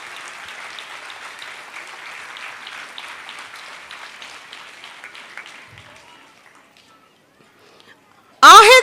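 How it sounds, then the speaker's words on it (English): Audience at a school annual day claps steadily for a young achiever, a broad crowd of applause that fades out, followed by a short burst of louder sound at the very end. "Give a big round of applause for this achiever."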